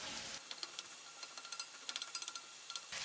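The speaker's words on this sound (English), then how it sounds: "So you stir the onions and at high flame" Chopped onions sizzle and crackle in a hot pan over high flame while being stirred, giving quiet irregular pops and a soft steady hiss, close up and alone.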